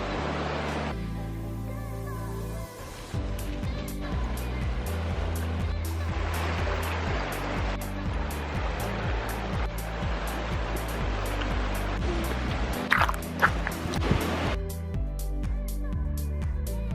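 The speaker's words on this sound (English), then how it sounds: "This is the Big Sur River. It's clear, it's beautiful, it's chilly." The clear, chilly Big Sur River rushes steadily as a continuous broadband wash of flowing water, close and fairly loud throughout, with occasional brief knocks and splashes near the end.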